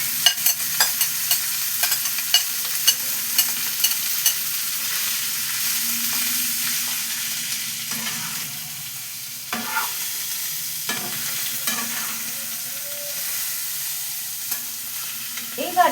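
Chicken pieces frying and being stirred in a pan of hot oil for a Bengali chicken raita, a soft steady sizzle broken by occasional scrapes and clinks of the spoon, close by with no talk.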